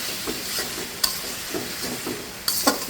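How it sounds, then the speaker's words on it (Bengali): Hot water poured into frying masala in a pan for a duck egg and radish curry, heard as a close, fizzing sizzle with several short sharp bursts of hiss and spatter. "এই পর্যায়ে আমি গরম জলটা দিয়ে দিচ্ছি।"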